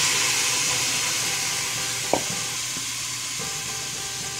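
Seafood tipped into a hot pan for arroz con mariscos raises a loud, even, continuous sizzle close by, with one brief sharp knock partway through and no speech.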